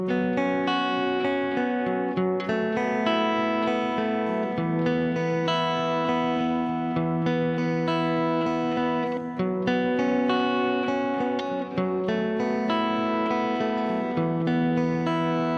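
Guitar played through a reverb plugin in Soundtrap, sustained chords ringing with a lush, washy tail, steady and loud with no voices throughout.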